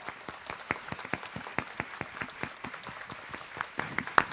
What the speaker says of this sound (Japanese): 皆様大きな拍手でお願いいたします